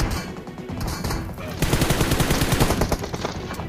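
Rapid automatic gunfire in the shooter game PUBG Mobile, a dense loud burst of close shots after a brief quieter stretch, with a voice heard faintly around it.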